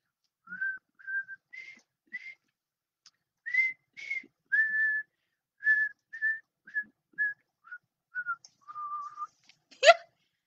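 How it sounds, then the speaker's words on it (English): Twinkle Twinkle Little Star whistled note by note in short phrases, clear and close in otherwise quiet surroundings, ending with a brief sharp sound. "Let's whistle."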